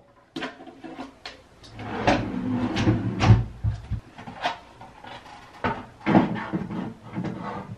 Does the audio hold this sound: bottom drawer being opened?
yes